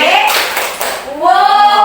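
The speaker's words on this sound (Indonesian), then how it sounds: "Tepuk wow." A group at a teachers' positive-culture training session performs the 'tepuk wow' clapping rhythm: short bursts of close hand claps mixed with voices chanting along.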